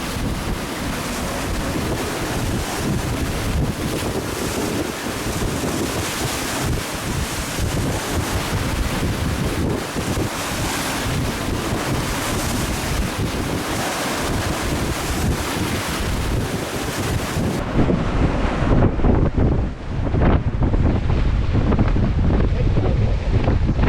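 A sailboat running fast at about nine knots through rough water, with a constant roar of wind buffeting the microphone and waves rushing along the hull, loud and unbroken throughout.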